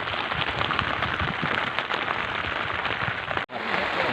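Heavy rain pours steadily as a dense, loud wash of hiss and patter during a flood, with one brief dropout near the end and no voices.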